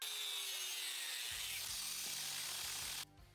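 A die grinder cuts slots into a metal spear, giving a steady high, hissing grind that runs continuously before stopping abruptly near the end, leaving faint low rattling.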